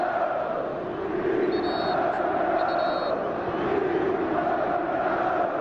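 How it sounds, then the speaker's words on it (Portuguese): São Paulo football fans singing and chanting in a packed stadium during the 2005 Libertadores final against Atlético PR, a steady roaring mass of voices that does not let up. "A torcida não para de cantar,"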